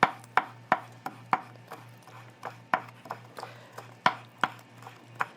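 A knife minces flat-leaf parsley on a cutting board in steady, close, crisp chops, each sharp tap landing in an even rhythm with no talking.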